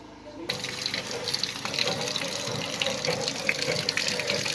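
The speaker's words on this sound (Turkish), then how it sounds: "Bu el pompası." Water gushes from a hand pump at a drinking-water fountain, starting abruptly as a loud, steady splashing rush that continues without a break.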